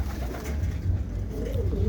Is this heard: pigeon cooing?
yes